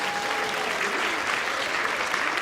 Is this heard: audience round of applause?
yes